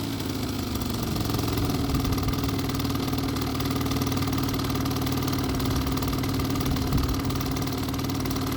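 A 2001 Hyosung Sense scooter engine idling, a steady close putter with a constant low hum and no change in pace throughout.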